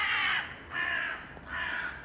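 Crows cawing outdoors, three loud harsh calls in a slow even rhythm, fairly close, with nobody talking.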